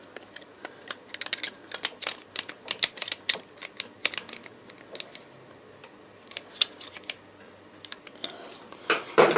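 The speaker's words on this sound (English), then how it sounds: "let's open up these brake pads" A GSXR 600 motorcycle brake calliper is opened to get at its pads, giving scattered light metallic clicks and clinks at close range, irregular and sparse, with no talk.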